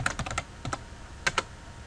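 Fingers type quickly on a computer keyboard, giving a brief run of close, crisp key clicks, a short pause, then a few more taps with no one speaking.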